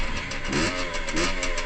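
A motorcycle engine running just after starting, with a steady, close mechanical drone and small rises in revs, and no talking.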